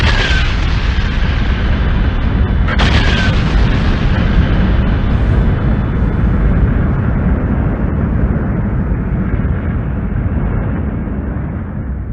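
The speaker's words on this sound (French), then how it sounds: "elle finit par exploser en ce qu'on appelle une nova ou supernova" A huge supernova-style explosion effect, a loud broad roaring rumble that sustains heavily for over twelve seconds with a sharp crackling burst early on, then slowly thins out.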